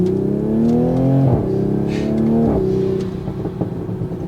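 A 2020 Toyota Supra MK5 with a ZF automatic, tuned to 450 wheel horsepower, pulls hard under steady load, its engine tone climbing then dropping sharply at two quick gear shifts before settling into a quieter cruise.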